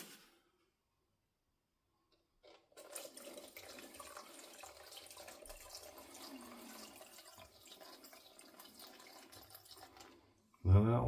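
Liquid paint finish being washed through a filter for a diecast model van, a thin steady trickle and splash that starts after a silent pause and runs for several seconds before a loud knock at the end.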